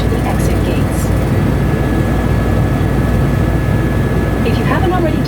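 Helicopter flying over Niagara Falls, a steady loud broadband rotor and engine roar filling the cabin throughout, with faint voices now and then beneath it.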